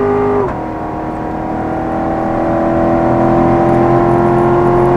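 A car engine on a race track drives loudly and steadily, with a quick gear change right at the start followed by a sustained, slowly rising drone as it accelerates down the straight; no talking.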